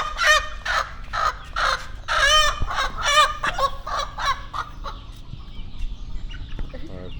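Chickens and a rooster on a Thai farm, among them a white hen, cluck and honk in loud, close, repeated bursts, with crowing-like calls and faint talk underneath.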